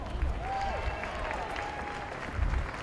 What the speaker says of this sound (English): big round of applause for Brent Hamill